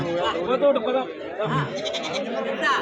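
At a crowded goat and sheep market, goats bleat repeatedly amid steady chatter and bargaining voices, the calls close and mixed under continuous talk.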